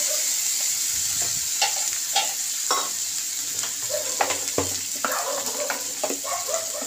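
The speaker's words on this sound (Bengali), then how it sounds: "আলুটাকে ভালো করে কষিয়ে দেবো।" Potatoes sauté with spices in a pan for a fish curry, stirred with intermittent scraping and tapping strokes over a steady hiss of frying, close up and without talk.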